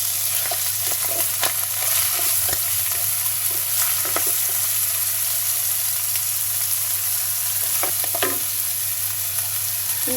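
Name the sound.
duck meat with spices being sautéed in pan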